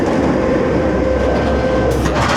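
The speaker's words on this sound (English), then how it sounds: "we can catch the train as it comes past" Nemesis Inferno roller coaster train at Thorpe Park rumbles past with steady, loud rolling noise and a thin whine, a brighter rattle rising near the end.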